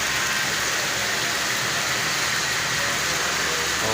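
Heavy rain pours down steadily, a dense, loud hiss with no pauses and no voices.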